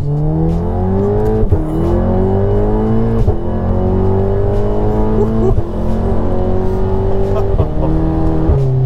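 A tuned Stage 2 Volkswagen Golf R revs hard and loud through its exhaust, climbing in pitch, then drops with an abrupt clunk at each quick DSG gear shift, repeating several times.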